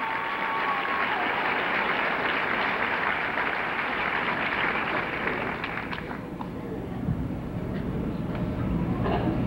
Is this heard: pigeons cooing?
no